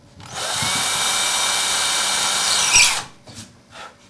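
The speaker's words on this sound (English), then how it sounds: "Next, I'm going to drill a small pilot hole" Power drill boring a small pilot hole in a wooden board for a router-table circle-cutting jig, one steady high whine of about two and a half seconds before stopping.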